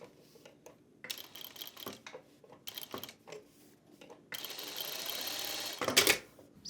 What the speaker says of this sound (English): So only at that curve you can press the reverse lever to reduce the stitch length and stitch.